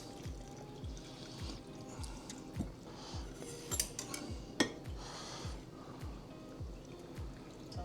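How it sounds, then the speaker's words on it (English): Brine pours and trickles into a glass jar of horseradish cucumber pickles with small drips and clinks, quiet and close, the flow coming in short repeated splashes. "So now we're pouring the brine in there."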